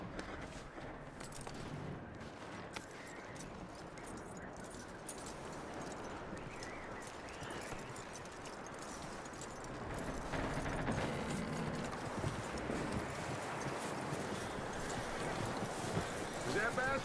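Horse hooves clip-clop steadily in the Red Dead Redemption 2 video game, growing slightly louder partway through, with a possible neigh, under continuous game ambience and a speaking voice.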